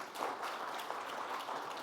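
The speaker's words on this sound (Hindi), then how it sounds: "ताली मारिए।" Audience applause at a Himalayan healthcare summit, a soft, distant patter of clapping hands that holds steady for a couple of seconds.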